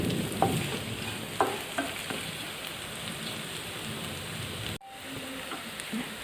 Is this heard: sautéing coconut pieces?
yes